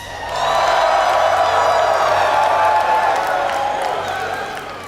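A live esports audience at the Riot World Invitational 2012 Pros vs Riot showdown cheers and applauds, a loud sustained roar of whoops and clapping that swells quickly and holds before easing slightly.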